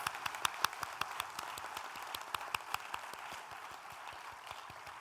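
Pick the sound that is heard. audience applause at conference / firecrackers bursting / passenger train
audience applause at conference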